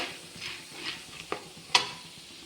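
Flattened rice (poha) frying in oil: a soft, quiet sizzle with a few sharp stirring clicks, and no speech.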